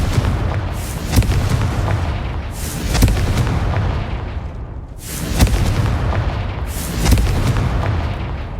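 Confringo fire spell blasts in Hogwarts Legacy, a run of deep booming explosions that swell and roll off roughly every two seconds, loud and close with no speech.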